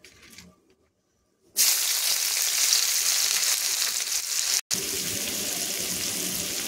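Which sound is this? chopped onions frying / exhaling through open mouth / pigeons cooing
chopped onions frying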